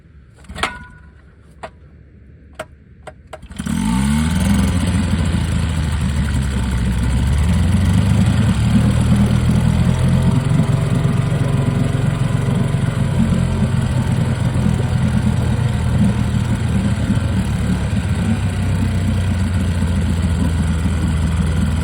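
A 1950s outboard motor fires up after a few faint clicks and pulls, then settles into a loud, steady idle in freezing cold weather, its low rumble running continuously without any voices.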